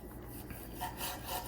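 A knife rasps through smoked pork butt in short, close sawing strokes, a steady scraping rub with slight pulses and no talking.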